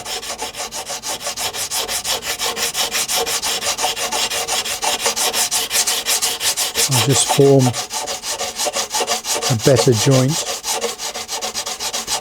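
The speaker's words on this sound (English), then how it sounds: "So using a round sanding bar" Rapid, rhythmic rasping strokes of a round sanding bar on balsa wood, on a model Hawker Tempest wing root, repeat steadily and close up, with someone briefly speaking over the scraping.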